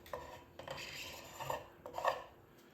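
Scraper shaving dried wood glue from a wooden surface, several short raspy strokes with quiet pauses between them, close and fairly soft.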